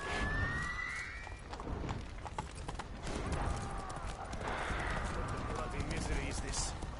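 Roach the horse gallops in The Witcher 3: Blood and Wine, with steady rhythmic hoofbeats pounding throughout while a player talks over the top.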